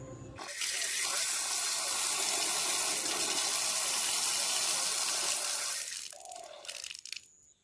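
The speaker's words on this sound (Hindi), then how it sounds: "हर घर स्वच्छ जल का नल यहाँ पर लगा हुआ है। एकदम फ्रेश पानी इस पर निकलता है।" Fresh water gushes steadily from an outdoor household tap for several seconds, loud and close, then cuts off with a few faint trailing splashes and drips; no one speaks over it.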